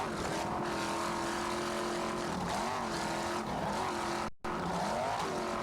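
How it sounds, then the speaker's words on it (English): A racing powerboat engine at a 1994 APBA national race on South Padre Island, droning loudly and continuously as the throttle rises and falls, with a brief cut in the sound near the end. "Nice throttling there by Frank Iroa"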